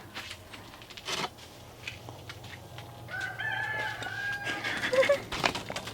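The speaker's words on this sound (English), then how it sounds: "You guys hear those roosters crowing?" Several roosters crow from a distance near a greenhouse, with drawn-out calls rising in the second half over a steady low background hum, while a person talks nearby.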